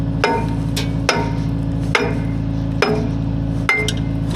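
A Harbor Freight 65A plasma cutter slices through metal, fed by a small compressor. It makes a loud, steady buzzing drone broken by sharp pops at a regular beat, roughly one per second, and no one speaks over it.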